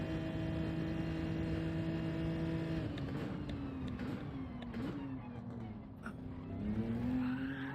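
A Gran Turismo 7 race car spins out in cold conditions, its engine note dropping and wavering while tires skid and squeal, steady and fairly loud throughout before the revs climb again at the end.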